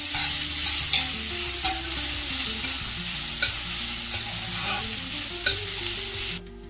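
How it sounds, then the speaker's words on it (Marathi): Onion sautéing in butter in a pan for masala pav, a strong close sizzle with repeated spatula stirs and scrapes, cutting off abruptly at the end. "आणि आता आपल्याला इथं कांदा परतून घ्यायचा आहे."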